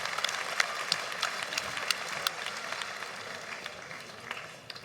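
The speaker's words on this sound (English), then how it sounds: "a big applause for these two fighters" A fight crowd applauds two light heavyweight fighters after a five-round bout, a steady crackle of clapping at moderate distance with sharper individual claps popping out.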